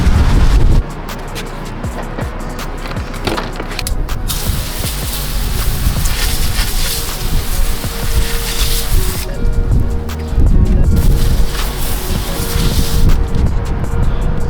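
Water spray and scrubbing noise fill the air as wheels for a Subaru BRZ, TE37 SL rims, are washed with Suds Lab Zero Acid Wheel Cleaner, steady and loud throughout with a few sharper bursts.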